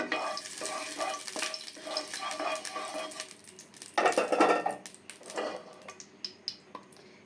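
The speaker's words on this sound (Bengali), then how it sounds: "একটু তেল দিয়ে আলুটা একটু নেড়ে ভেজে নেব" Potatoes frying in oil are stirred in a pan with a metal utensil, giving a close sizzle with repeated scrapes and clatters and one louder burst of stirring midway.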